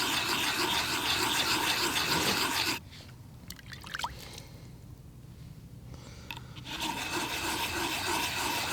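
An argillite projectile point rubbed back and forth on sandstone, giving loud, dense, gritty scraping that drops to a quieter, lighter rasping in the middle before the heavy grinding resumes.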